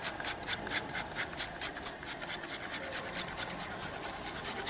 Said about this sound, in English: Some little bits of grated lemon zest.